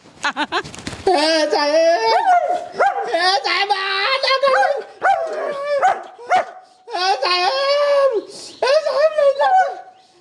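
A dog barks and whimpers in repeated bursts, loud and close, with short yelps between longer whining cries.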